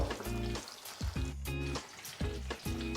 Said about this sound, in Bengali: আমরা মাছগুলোকে বেশ কড়া করে ভাজবো।